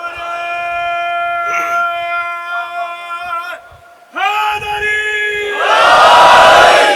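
A majlis gathering of mourners during Muharram chants a slogan in unison in answer to a speaker, voices rising in sustained crowd cries that swell louder and denser toward the end.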